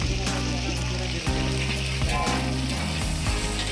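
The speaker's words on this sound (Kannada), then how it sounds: "ರುಬ್ಬಿಕೊಂಡಂತಹ ಮಸಾಲೆಯನ್ನು ಈಗ ಎಣ್ಣೆ ಒಳಗೆ ಹಾಕ್ತಾ ಇದ್ದೀವಿ" Ground masala fries in hot sunflower oil, a continuous crackling sizzle broken by intermittent scraping and clicking from stirring, close and fairly loud.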